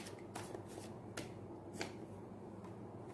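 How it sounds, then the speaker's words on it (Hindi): Tarot cards being drawn and shuffled from a deck, a few soft crisp card flicks and slaps spaced irregularly over quiet room noise, no talking. "इसमें हम कार्ड निकाल लेते हैं"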